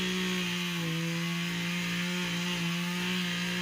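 A new chainsaw runs steadily through a tree it is cutting down, giving a loud, continuous, even engine whine with no breaks for the whole stretch and no voices.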